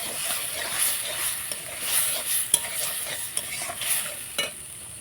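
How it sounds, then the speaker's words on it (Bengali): Coconut mixture with added water being stirred and cooked down in a pan for a vegetarian banana-flower (mocha ghonto) dish, giving a soft steady sizzle with scraping stir strokes and light utensil clinks, no talking. "এখন জলটা দিয়ে দিচ্ছি, জলটা দিয়ে একটু কষিয়ে নেব"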